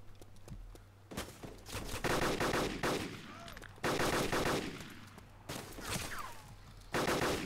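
Gunfire in the DayZ video game, with repeated sharp shots in separated bursts, some rapid and close together, heard mostly on their own with little talk.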